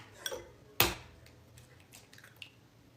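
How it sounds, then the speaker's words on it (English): A single sharp crack of an egg against a mixing bowl rim for brownie batter, close and alone, followed by faint soft taps and clinks in a quiet kitchen. "I'm going to crack my egg right over the bowl."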